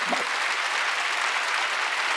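Steady applause from a church congregation at a Wednesday worship service, dense clapping that holds at an even level for a couple of seconds.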